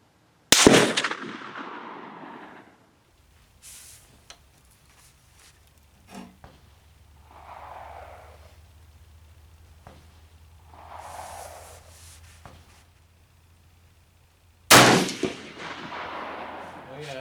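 Remington 700 rifle shots at an outdoor range: a loud sharp crack at the start and another near the end, each trailing into echo, with quieter rustling and soft sounds between.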